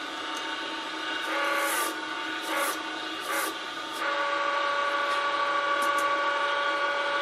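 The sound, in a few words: wooden spinning top blank burning into drive center on lathe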